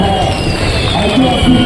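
Fireworks crackle at an outdoor statue unveiling ceremony for Annabhau Sathe, a dense continuous rush of bursts under loud talk. Crowd noise mixes in throughout.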